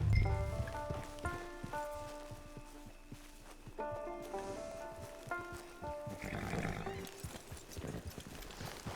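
Horse hooves clip-clop at a walking pace with an occasional whinny, set against a steady musical backdrop, in the video game Red Dead Redemption 2 Online.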